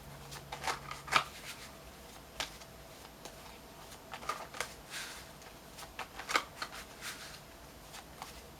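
Spirit animal oracle cards being shuffled: sparse soft riffles and crisp card flicks, several short bursts over about eight seconds, quiet and close-up, with no speech.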